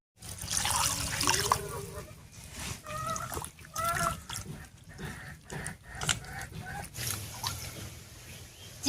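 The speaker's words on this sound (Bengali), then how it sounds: "তো তার জন্য প্রথমে আমি চিকেনটা ধুয়ে নিচ্ছি।" Raw chicken pieces being washed in water in a kitchen before cooking a curry with young jackfruit, with close sloshing, trickling and splashing in uneven bursts, and a voice murmuring faintly in places.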